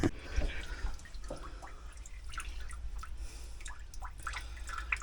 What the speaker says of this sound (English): You can probably just about see and hear water pouring out of there.